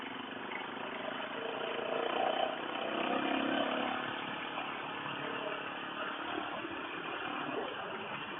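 A motorcycle engine drones steadily while riding, a muffled, even rumble that swells slightly in the middle, with wind noise and no speech.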